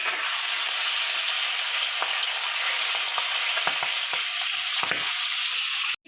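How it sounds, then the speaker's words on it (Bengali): Catfish heads frying in hot oil give a loud, continuous sizzle with faint crackles and spatters for several seconds, then the sound cuts off abruptly. "তেলটাও গরম হয়ে গেছে, মাছের মাথাগুলো আগে ভেজে নিই"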